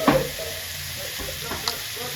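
Mushrooms frying in a pan for a gravy-style curry, giving a soft steady sizzle with a few scraping stirs near the start and another clink later, close and moderately quiet, with no talking.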